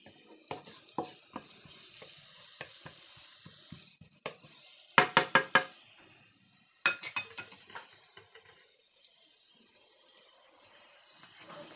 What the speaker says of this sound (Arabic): هوني قليت الثوم في شويه زيت